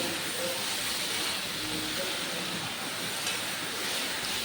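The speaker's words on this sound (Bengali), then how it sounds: "এবার মশলাটা ভালো করে কষে নেব।" Steady, dense sizzling hiss of masala spice paste frying in a pan for a mankachu curry, continuous and fairly loud at close range, with no pauses.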